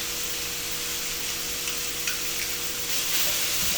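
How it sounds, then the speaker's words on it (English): Onions and garlic sizzle steadily in a pan as stuffed bell pepper filling cooks, a soft continuous hiss with faint crackles, close and even throughout. "My onions are about translucent, so I'm gonna go ahead and add in my 2 cloves"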